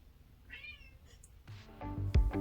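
A cat meows a few times close by, with a short high call followed by louder, fuller meows toward the end, and no talking.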